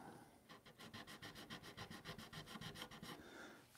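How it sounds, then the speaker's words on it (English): Wood being sanded by hand with sandpaper while making a canopy: a quick, even run of about fifteen rasping back-and-forth strokes, close and fairly quiet, with no talk. "Really need a little bit heavier piece of sandpaper than that."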